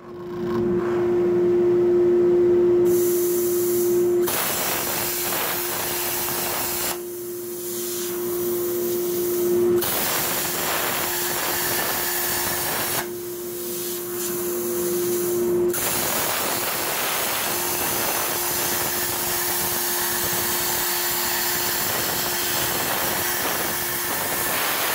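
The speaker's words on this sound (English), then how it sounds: "let's go into plasma table, and we'll go ahead and we'll burn ourselves some ears on there" A plasma table burns steel ears from plate, a loud steady roaring hiss with a constant tone that cuts out and restarts several times over the stretch.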